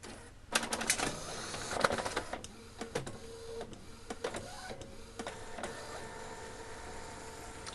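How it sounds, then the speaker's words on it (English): An Epson printer runs a nozzle check after head cleaning, with clicking, whirring carriage passes and sharp mechanical ticks in an uneven rhythm, close and clear with no talk. "I'm now going to tell it to print a nozzle check"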